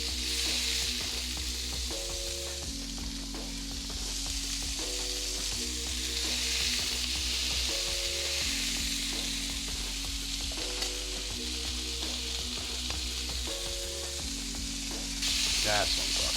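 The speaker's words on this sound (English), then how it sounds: "We're going to press those onions into our smash burger." Smash burger patties with onions sizzle and crackle on a hot griddle under a steady backdrop of repeating music, with scattered scraping as the onions are pressed in.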